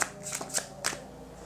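Tarot cards are shuffled by hand close up, giving a few quick riffling bursts of crisp papery snaps in under a second and a half, with no talking.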